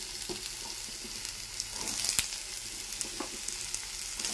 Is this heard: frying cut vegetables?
yes